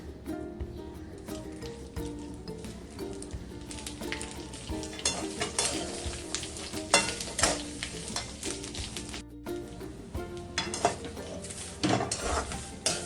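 Peeled garlic roasts in oil in a pan, a soft continuous sizzle under frequent clinks and scrapes of a utensil stirring against metal.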